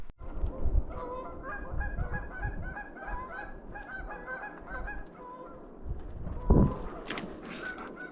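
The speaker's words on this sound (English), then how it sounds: "Are those geese teasing you" A flock of geese honks repeatedly, a dense overlapping chorus of nasal calls at moderate distance, with a brief louder thump or rustle near the end.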